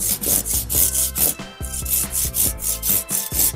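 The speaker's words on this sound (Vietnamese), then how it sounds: "Còn em sẽ đi test thử cái cưa này." A black BUTDDY Japanese hand saw cuts through wood in quick, even push-pull strokes, a close rasping rhythm of about a dozen strokes with one short pause partway.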